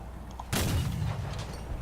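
A single heavy gun blast goes off in the Crossout vehicle combat game during a weapon test, a sudden loud boom followed by a sustained rumbling roar that lingers for over a second.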